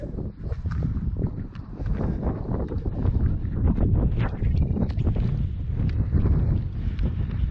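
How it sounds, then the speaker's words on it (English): Steady wind gusts across an exposed hilltop, buffeting the microphone with a continuous rumbling roar that swells and eases with no voices. "Now you might not hear me because it's windy"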